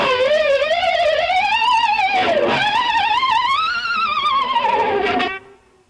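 Electric guitar harmonics bent up and down with a whammy bar in a lick, loud and continuous wavering pitch that swoops and dives for about five seconds before cutting off.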